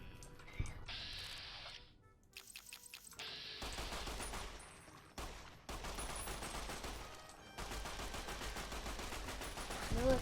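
Rapid gunfire bursts from Fallout: New Vegas crack out in dense volleys, broken by brief pauses and punctuated by sharp tonal effects, loud and continuous over most of the stretch.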